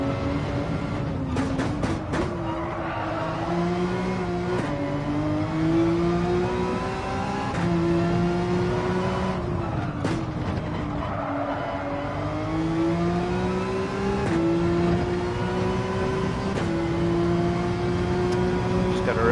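Race car engine in Gran Turismo 7 on the reverse Nürburgring, a loud continuous whine that climbs in pitch through each gear and drops sharply at the shifts, running throughout with a voice talking over it.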